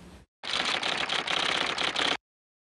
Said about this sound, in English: The clatter of typewriters in the Bendlerstrasse came to a halt